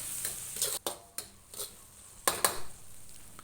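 A Thai-style fried egg dish with sesame oil and ground pepper is stirred in a pan, giving soft scraping, light sizzling and several sharp clinks of a utensil against the metal, fairly close and quiet with no talking.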